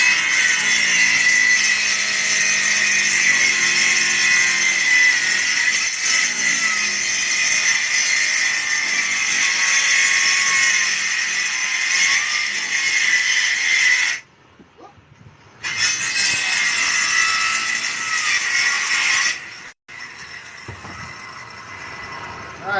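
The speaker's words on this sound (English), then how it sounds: "A little bit of sawing here." Saw cutting through wood during a roof corner repair and reframing, a loud continuous rasping stroke that runs almost without pause, broken by two short gaps.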